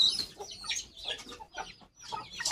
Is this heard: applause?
no